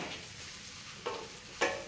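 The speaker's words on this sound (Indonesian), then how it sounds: "Terus saya aduk ya teman-teman sampai mie gorengnya agak kering" Fried noodles (mie goreng) sizzle in a pan while being stirred, a soft steady frying hiss broken by two sharp scraping strokes of the spatula.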